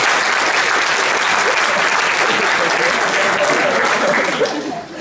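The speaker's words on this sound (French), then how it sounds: "Merci de les applaudir là-bas." Applause from a live TV studio audience cheering two fans seated high in the stands, a dense, steady wash of clapping at full volume that carries on for the whole stretch before tapering slightly at the end.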